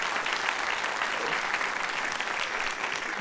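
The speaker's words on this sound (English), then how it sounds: "Give them a round of applause." Steady applause from a large audience at a university doctoral hooding ceremony, a continuous wash of many hands clapping, even in level and somewhat distant, with no voices on top.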